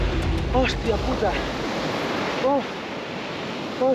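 Atlantic beach surf with cold, foamy water rolling in as a steady broad wash of waves, mixed with wind, while excited voices shout and exclaim over it.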